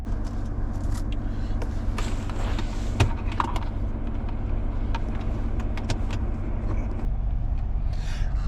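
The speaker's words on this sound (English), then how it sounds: "I got the vehicle running" A truck engine idles with a car air purifier plugged in, a steady low rumble that holds through the whole stretch with a few faint clicks and knocks over it.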